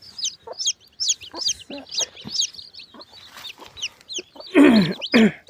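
A hen clucks repeatedly with her newly hatched chicks peeping around her, the calls close and fairly loud, ending in a couple of stronger, throaty hen calls.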